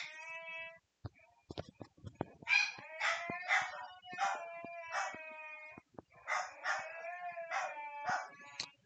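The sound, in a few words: husky dog howling and mewling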